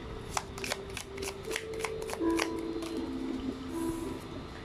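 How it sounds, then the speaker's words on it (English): Tarot cards shuffled and riffled in quick flicking bursts, close and fairly quiet, over a low steady hum with no talk. "So we're going to pull up a lot of cards."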